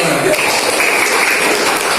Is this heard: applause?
yes